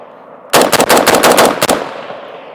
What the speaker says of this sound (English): Let's do some mag dumps here.